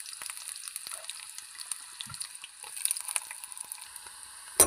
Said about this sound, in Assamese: প্ৰথমে তেল দি দিছোঁ, তাৰপিছত দি দিছোঁ পিঁয়াজ